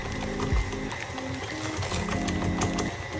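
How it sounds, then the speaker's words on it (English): A stand mixer runs at medium speed while sugar goes in, giving a steady mechanical whirring with rattling, clicking texture, close and continuous throughout. "turn on my mixer to a medium speed"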